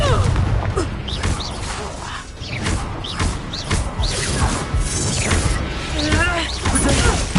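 A Confringo fire spell blasting in a wizard video game, repeated booming bursts amid busy combat noise, with voices shouting over the fighting throughout.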